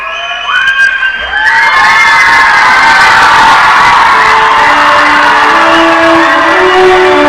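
At a veterinary college day award ceremony, a loud crowd cheers with high-pitched whoops and shouts that swell into sustained clapping and roaring, very close and dense.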